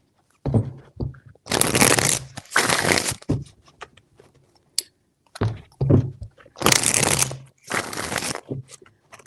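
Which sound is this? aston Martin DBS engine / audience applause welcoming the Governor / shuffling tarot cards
shuffling tarot cards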